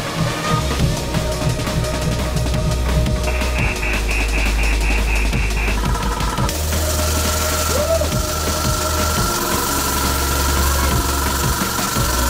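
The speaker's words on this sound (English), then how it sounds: "the steam engine kept running even as it reached incredibly low pressures" A homemade steam engine runs at about 140 psi, giving a loud continuous mechanical chug and knocking with a deep rumbling hum, a tonal whine, and a hissing shift partway through.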